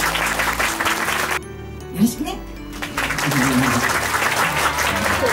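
A live Japanese audience claps in a sustained wash of applause, broken by a short pause where someone speaks, then resuming full and steady to the end.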